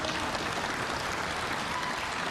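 An audience applauds a political speech line about a property tax rate cut, a steady wash of distant clapping heard alone at moderate volume.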